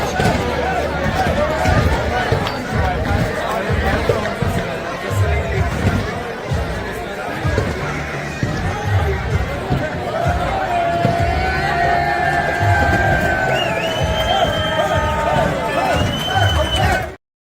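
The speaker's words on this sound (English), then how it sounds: "I have a little clip of just during one of the handshakes and just showing the crowd in there" Crowd noise at an outdoor box lacrosse tournament during the post-game handshakes, a steady dense hubbub of chatter and cheering with scattered shouts and thumps, continuous and close throughout.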